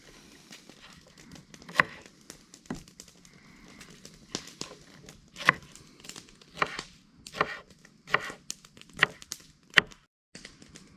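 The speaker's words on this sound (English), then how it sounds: "Let's get the chopping." Knife chopping jalapeno peppers on a cutting board, a series of sharp, irregular taps spaced a fraction of a second to a second apart, close and fairly quiet.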